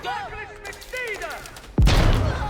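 A bombard siege cannon fires in a strategy video game, a sudden heavy boom with a rumbling tail after whistling, warbling game sound effects.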